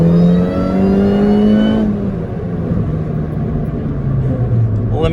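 A Mini Cooper S R53 accelerating hard in second gear, engine note rising steadily and loud, then a brief drop as revs fall before climbing again, heard from inside the car.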